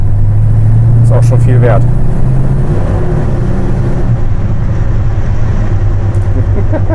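A 1969 Chevrolet Chevelle Malibu 300 Deluxe Coupe drives steadily through a brake test, its engine and road noise loud and continuous while someone speaks over it.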